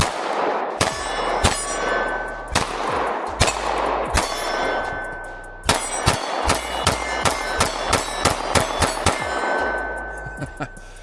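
Shots from a S&W CSX E-Series pistol with a 17-round magazine, sharp loud cracks fired singly, then in a steady rapid string with ringing metallic echoes, no talking.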